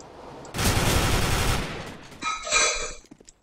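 Counter-Strike: Global Offensive gunfire erupts as a dense, loud, close burst lasting about a second, trailed by fainter metallic clatter and then quiet, with no speech.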